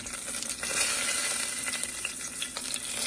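Whole spices, among them cloves, bay leaf, cinnamon and shahi jeera, frying in oil for mushroom biryani, giving a dense, continuous close sizzle with faint crackles and stirring.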